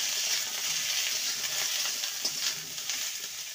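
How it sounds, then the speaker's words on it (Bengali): Cauliflower florets fry in hot oil with black cumin seeds and a whole dried red chilli, giving a bright, steady sizzle with soft crackles and occasional stirring scrapes, close and continuous with no talking. "ফুলকপিটাকে 2-3 মিনিট ভেজে নেব"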